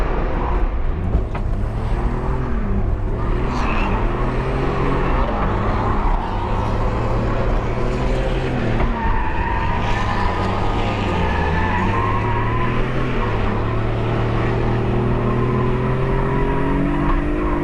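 A drift car lapping a wet track, engine revving loud and continuous with rising and falling pitch through gear changes and slides, tire noise under the engine throughout.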